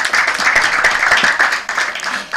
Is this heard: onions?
no